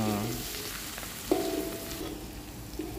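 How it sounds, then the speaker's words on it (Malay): Steady loud sizzling and crackling of spices frying in hot oil, with a few short tonal clinks from cookware partway through. "tumis apa dia naik bau garing-garing deh"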